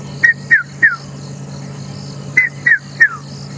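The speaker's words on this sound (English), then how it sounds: "You can just hear the red-chested cuckoo or the pitmay frobird going." Red-chested cuckoo calling on a game reserve drive, heard as a few short, clear whistled notes in two spaced bursts of three, moderately distant over a low steady hum.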